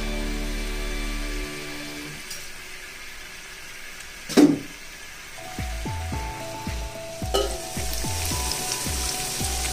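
Vegetables for veg pulao sizzle and crackle softly in hot oil, a steady faint frying hiss with scattered pops and a few clinks from a utensil stirring the pan.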